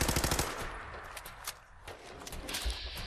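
Rapid automatic gunfire from the post-apocalyptic video game Fallout 4 rattles in loud, dense bursts with sharp repeated reports, continuing almost without pause through the whole stretch.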